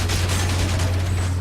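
Enemies fire at the player in the video game Enslaved: Odyssey to the West, a dense burst of rapid gunfire over a low steady hum, loud and close, with no talking.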